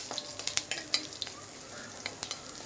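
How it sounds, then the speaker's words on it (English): Ginger with curry leaves and green chilli sautéing in a pan for a vegetable stew, a close sizzle with quick, irregular spatula scrapes and clicks. "ginger, saute this."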